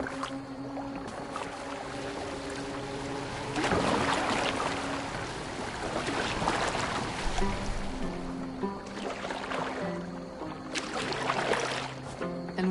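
Boat gliding over water in a Viking video game, with a steady wash of lapping water and oar-like surges swelling and fading beneath a sustained musical score.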